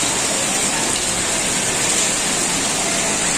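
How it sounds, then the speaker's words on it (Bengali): Rain pours outside onto a road as a dense, loud, continuous hiss of falling water, steady from start to finish with no talk. "বাইরের বৃষ্টিটা একটু দেখাই।"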